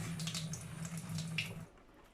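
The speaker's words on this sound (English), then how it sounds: "I always just rinse off that salty solution that's going to be stuck to the outside, just so it isn't over salted." Tap water runs steadily over a brined turkey breast in a kitchen sink, a continuous splashing rush that stops abruptly near the end, leaving near silence.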